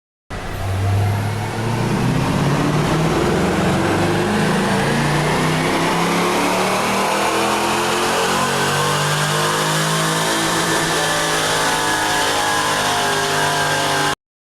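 A car engine revs up through a full wide-open pull on a dyno at 22 degrees of ignition timing. Pitch climbs steadily for about fourteen seconds, loud and continuous, with no talking.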